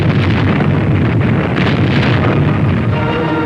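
Naval guns of the Dragoon Task Force fire back at German coastal guns off southern France in August 1944, a loud, continuous roar of blasts and rumble with wind buffeting throughout.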